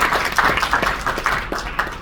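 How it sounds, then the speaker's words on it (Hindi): An audience at a sales training session claps in quick, uneven bursts, forming a loose, close patter of applause that carries on for the whole short clip. "एक बार तालियां बजा लो।"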